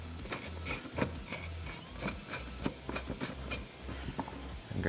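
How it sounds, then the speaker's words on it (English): Band clamp on the clutch cover vent tube of a Polaris General being loosened: close, repeated scratchy ratcheting clicks and rasping turns in an uneven rhythm, with no talk. "We'll just want to loosen our band clamp up."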